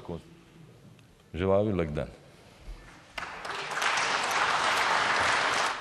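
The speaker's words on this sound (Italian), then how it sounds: "Borisov è poi stato applaudito dai suoi" Members of the Bulgarian parliament applaud Prime Minister Borisov; after someone speaks briefly, a broad wash of clapping rises and holds to the end, fairly loud in the chamber.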